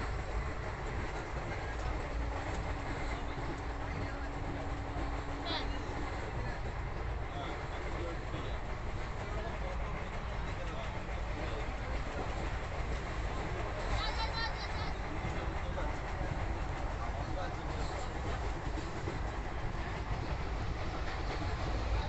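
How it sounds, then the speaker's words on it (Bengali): A passenger train runs on rails toward Puri, making a steady, continuous rumble and rattle from inside the carriage for the whole stretch, with faint voices mixed underneath. "ঠিক ভোর 5টা বাজতে 10 মিনিট আগেই ট্রেনটা পুরীতে ঢুকে গেল।"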